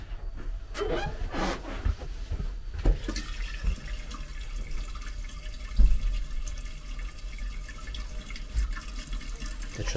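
A tap keeps running after the water supply has been shut off, giving a steady, moderate splashing hiss with scattered louder drips and clatters throughout.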